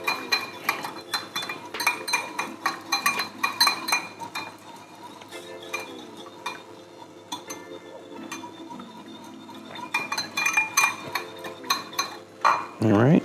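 Mediterranean quinoa salad ingredients are mixed in a bowl, with repeated close clinks and scrapes of a utensil in uneven bursts and a quieter stretch midway.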